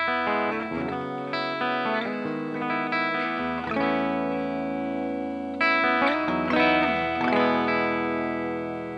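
An electric guitar through an Abrachinsky Effects Enigma V2 fuzz pedal, guitar volume rolled down, plays a series of notes and chords with a cleaner, lightly driven tone, moderately loud and ringing, with no talking.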